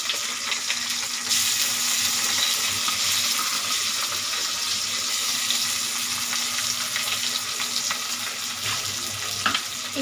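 Dried red chillies and garlic fry in hot oil in a pan for a Bengali rui fish roe curry, giving a steady, moderately loud crackling sizzle that runs throughout with small pops and stirring noises and no talk.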